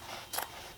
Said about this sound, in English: cut your strips, preparation for later.